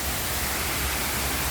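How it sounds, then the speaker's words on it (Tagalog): A waterfall in Hong Kong Park pours steadily, a dense, even hiss of rushing water filling the air without pause or any talking. "Yan, ang ganda ng falls nila"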